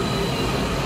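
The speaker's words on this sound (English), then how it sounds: "so I'm getting onto the train." A Washington DC Metro Orange Line train rumbles in a station with a loud, steady roar and a faint high whine throughout, and no voices over it.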